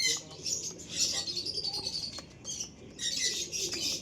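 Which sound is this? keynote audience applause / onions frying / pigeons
pigeons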